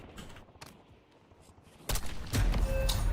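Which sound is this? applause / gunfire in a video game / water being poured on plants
gunfire in a video game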